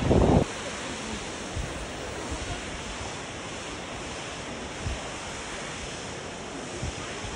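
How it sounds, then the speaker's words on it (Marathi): Water flows below a suspension bridge in Germany's Black Forest, a steady rushing wash heard close to the microphone with wind buffeting, after a brief loud bump at the start. "या ठिकाणी खूप सुंदर असं खेळून जाणारं पाणी आहे"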